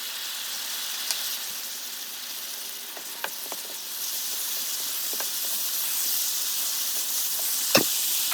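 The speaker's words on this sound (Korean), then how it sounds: "양념장을 넣고 한 번 더 볶아주세요" Spicy Korean pork stir-frying with seasoning sauce in a hot pan, a steady hissing sizzle with occasional sharp clicks of utensils against the pan, moderately close and without voices.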